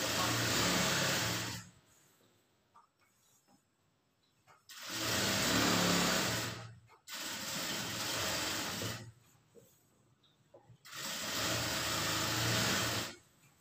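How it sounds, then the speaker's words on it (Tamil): A sewing machine stitches a pant seam in three loud bursts of rapid whirring, separated by quiet pauses, heard close up. "இப்போ வந்து ரெண்டாவது தையல் வந்து போட்டுக்கலாம்."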